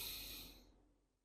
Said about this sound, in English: And finally, breathe in